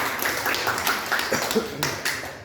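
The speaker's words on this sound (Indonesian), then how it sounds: "beri tepuk tangan dulu ya" A classroom of students claps briefly, a short burst of scattered, uneven hand claps close by with a little background noise, no talking over it.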